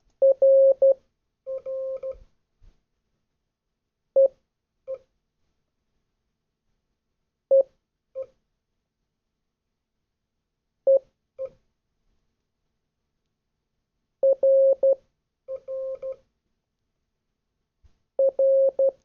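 Morse code practice tones from a web practice page: a single clean steady beep sent in short dits and longer dahs, grouped into letters separated by clear silent gaps, with no talking.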